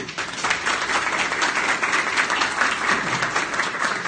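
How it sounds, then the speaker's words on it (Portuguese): A lecture audience claps steadily for a speaker being welcomed to the stage, a dense, even wash of applause from many hands, loud and continuous with no talk over it. "Eu vou pedir a vocês uma salva de palmas para ele."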